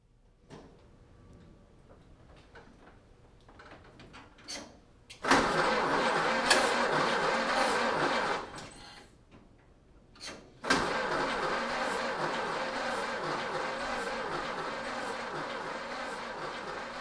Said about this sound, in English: So finally, the moment of truth, trying to crank it up the first time.